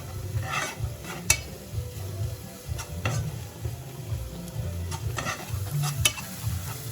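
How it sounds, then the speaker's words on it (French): A pot of fish sauce simmering while being gently stirred, a low bubbling sizzle with soft scraping strokes and occasional light clinks of the utensil against the pot. "on mélange avec comme ça, on bouge comme ça doucement, et va bien mélanger"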